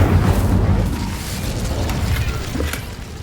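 An Incendio fire spell is cast in Hogwarts Legacy, a loud whooshing burst of flame with a rumbling roar that tapers into crackling, and little speech.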